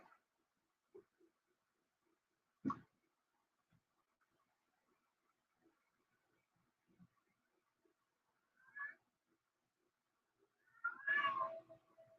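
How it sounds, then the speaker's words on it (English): A cat meows a few times, faint and scattered, with a longer, louder wavering meow near the end amid quiet rustles and a sharp knock. "Kitty cat."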